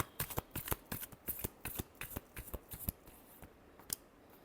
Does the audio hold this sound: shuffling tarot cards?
yes